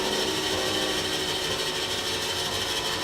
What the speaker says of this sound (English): Then we wait for the grinder to stop making noise.